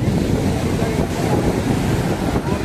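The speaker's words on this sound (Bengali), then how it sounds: "পাশে আবার সমুদ্রের ঢেউ দেখতে পাওয়া যাচ্ছে, ঢেউ বারবার করে উঠে আসছে আর আমাদের পাশে উঠে যাচ্ছে।" Sea waves at Puri beach at night rumble and wash in a loud, continuous roar, heavy in the low end with wind buffeting the microphone and no clear voices.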